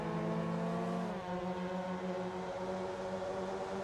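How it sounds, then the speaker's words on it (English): Engine drone of a Mazda NA MX-5 race car in a sim racing game at Slovakiaring, steady and loud, with the pitch dropping around one second in as another car passes, no talk. "This time through turn 2, you can hear Rev 174, the other yellow car on the grid"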